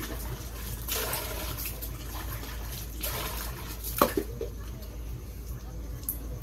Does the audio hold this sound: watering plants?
yes